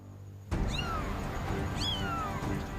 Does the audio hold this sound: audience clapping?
no